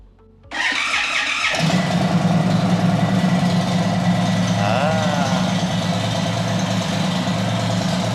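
An Indian 1900cc motorcycle with a 60-degree engine starts after a brief quiet moment. It catches abruptly and settles into a steady, close, loud idle rumble for the rest of the clip.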